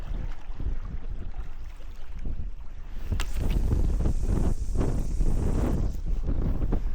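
Wind gusts at a rocky shore during shore fishing, buffeting the microphone with a heavy low rumble that swells louder halfway through, with surf-like roar behind it and no speech.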